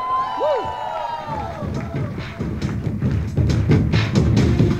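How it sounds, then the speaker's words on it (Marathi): An audience at a school annual function breaks into loud applause and cheering that swells and grows denser, following a brief electronic tone, with crowd voices mixed in. "तर तिच्यासाठी जोरदार टाळ्या."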